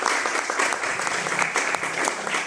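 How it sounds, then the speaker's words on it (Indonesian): A room full of people at a seminar claps steadily, a dense, even patter of applause throughout with no pauses. "Tepuk tangannya dong."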